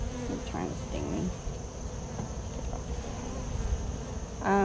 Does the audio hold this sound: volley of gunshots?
no